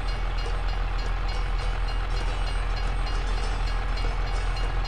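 A Canadian Railway freight train rolls past in Farming Simulator 22, a steady continuous rumble and rail clatter holding at constant loudness throughout, near and uninterrupted, with no voices.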